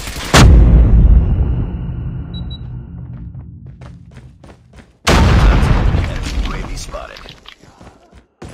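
Two heavy grenade explosions in Call of Duty Mobile boom loudly, each with a sharp blast that rolls off into a long, rumbling decay.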